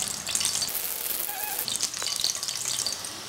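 Cinnamon, cloves and cardamom frying in hot oil in a pressure cooker, a steady bright hiss and crackle, fairly loud and close throughout.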